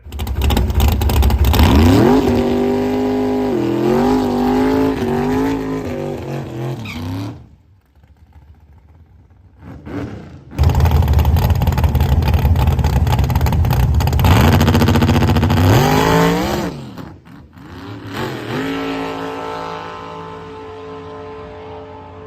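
A nitrous drag race car roars at full throttle on its first pass, loud and close, with the engine note climbing through revs. A brief quiet gap follows before a second long, loud acceleration run and a fading rev tail.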